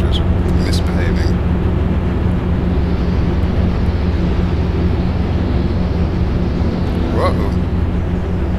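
Spaceship thrusters in Star Citizen, a loud, steady low rumbling roar with hissing wind-like noise, plus a few brief higher bursts near the start and end.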